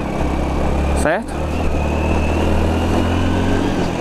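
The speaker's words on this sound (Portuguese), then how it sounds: "Abre bem o acelerador da moto, turma, que ela não volta." A Honda Biz motorcycle engine drones steadily as the throttle is held open while climbing a hill, loud and continuous, with a brief dip partway through and someone speaking over it.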